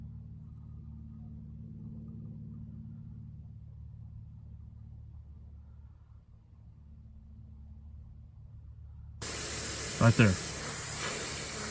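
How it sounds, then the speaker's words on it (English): Air hisses out steadily as the end cap of a tire deflator is slowly loosened, a loud sudden rush arriving near the end after quiet rumble, with a brief spoken remark over it. "Now let's take the end cap. Slowly loosen it. You'll hear the air escape."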